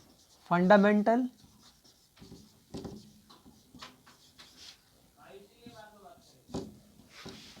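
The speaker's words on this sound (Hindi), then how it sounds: "तो मैं लिख देता हूँ इसको" Scratchy, tapping strokes of writing on a board during an accounting lecture in Hindi, heard intermittently beneath the lecturer's ongoing speech, with a louder voiced phrase at the start.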